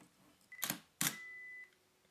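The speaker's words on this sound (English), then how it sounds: "Just a simple press to activate the shutter release using the Nikon compatible infrared remote control ML-L3" Nikon SLR camera shutter fired by an ML-L3 infrared remote: two sharp mechanical clicks half a second apart, close and alone, with a faint steady electronic beep tone between and after them.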